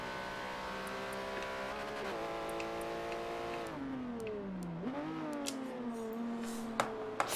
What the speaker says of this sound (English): here we can see the cars driving around